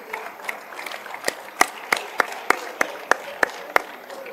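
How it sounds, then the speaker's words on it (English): Scattered clapping at a council meeting: a handful of distinct, evenly spaced claps standing out over a quiet room hum, sounding like a small group rather than a full crowd. "Can we give them the last round of applause,"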